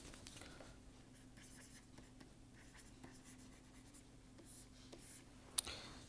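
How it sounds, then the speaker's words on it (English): Faint scratching of writing on a board during a lecture, soft strokes spread through a quiet room, with one sharper tap near the end. "We can write it here."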